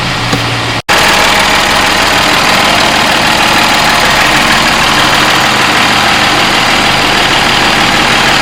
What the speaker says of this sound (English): Engine sounds really, really nice.